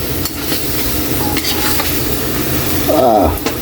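Stingray pieces being stirred with fish sauce in a pan, a steady scraping stir over a continuous sizzle, with a brief louder utensil scrape near the end; no talking.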